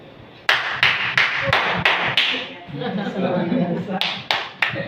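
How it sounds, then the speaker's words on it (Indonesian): A church congregation claps in rhythmic, evenly spaced bursts during a worship service, with a short pause and murmuring voices in the middle before the clapping resumes. "tepuk tangannya"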